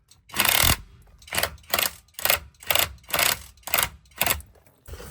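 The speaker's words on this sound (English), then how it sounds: "Use a 3/8 cordless impact because trying to get these off by hand sucks." A 3/8-inch cordless impact wrench removes bolts on a Ford 6.0 Powerstroke in roughly eight loud, close hammering bursts, the first one long and the rest short and evenly spaced with quiet gaps between.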